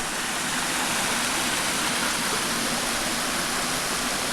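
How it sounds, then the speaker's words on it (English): Steady, full rushing water from a small waterfall spilling into a stream, continuous and close, with no voices. "And a little waterfall."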